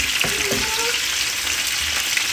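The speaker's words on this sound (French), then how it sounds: "nos légumes sont en train de cuire" Vegetables with garlic frying in a pan, a dense continuous sizzle close by with a few stirring scrapes near the start, no talking.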